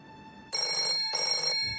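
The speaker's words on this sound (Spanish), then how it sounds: "Sonó el teléfono" An old-style telephone bell rings in two long bursts separated by a short pause, loud and close, with no voices over it.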